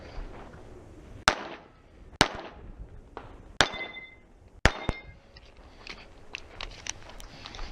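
Pistol shots on a 2-gun match stage ring out as sharp, loud cracks, four or five spaced a second or so apart, with fainter distant shots and metallic pings trailing after.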